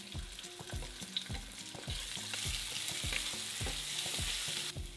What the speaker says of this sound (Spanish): vamos a poner a dorar 2 tomates que los corté en 4, 6 tomatillos mil peros, tomatillos de los chiquitos, que los corté a la mitad, 3 dientes de ajo y un pedacito pequeño de cebolla